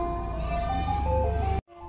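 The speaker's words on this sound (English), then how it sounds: "Look, you guys, the ice cream truck is here." Ice cream truck playing its tinkling jingle melody, steady and clear from start to finish, then cut off abruptly near the end.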